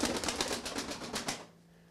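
Game pigeons nearby make a rapid, rhythmic pulsing flurry of sound that lasts about a second and a half, then stops, leaving a quiet hum.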